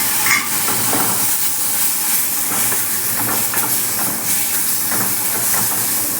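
Tomatoes are added to a hot pan for a simple rasam, giving a loud, close, continuous sizzle and hiss with some stirring, and no talk over it.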